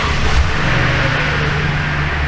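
A Toyota engine with a start-stall fault catches and settles into a loud, steady idle, close up, with one brief surge near the start and no talk over it.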